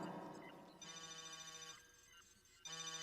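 A telephone ringing in an episode of Tales of the TMNT, an electronic tonal ring with a repeating melodic pattern that briefly drops out before resuming, heard at a moderate level.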